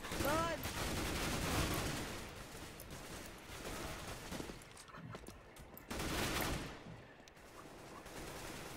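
Gunfire in the CS:GO JailBreak video game, a steady rattle of rapid shots with louder bursts and short lulls, with voices shouting over it.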